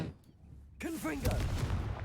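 A Confringo spell is cast in Hogwarts Legacy: a brief voiced call rises out of a quiet, low hum, then a loud, crackling fiery explosion bursts in and keeps roaring to the end.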